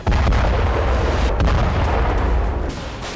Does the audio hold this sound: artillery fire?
yes